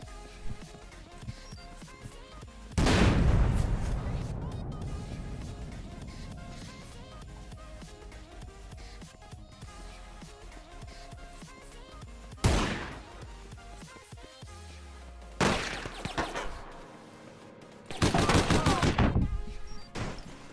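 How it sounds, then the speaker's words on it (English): Gunshots ring out in APB Reloaded as other players fire on the group, arriving in a few loud, sharp bursts with quieter stretches between them and ongoing game ambience. "They're shooting at us."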